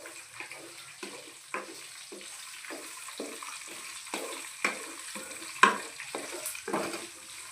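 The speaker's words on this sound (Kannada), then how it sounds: "ಈಗ ಲಾಸ್ಟಿಗೆ ಈರುಳ್ಳಿಯನ್ನು ಹಾಕೋಣ. ಸ್ವಲ್ಪ ಹೊತ್ತು ಫ್ರೈ ಮಾಡೋಣ" Peanuts and onions fry in a pan, with a soft continuous sizzle broken by regular scraping stir strokes about every half second, near and moderately quiet.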